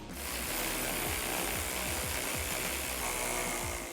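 A ratchet clicks rapidly and steadily while tightening the factory lower control arm hardware on a 2018-2020 Jeep Wrangler JL during a 2-inch lift install, loud and close with continuous metallic pawl chatter and no talk.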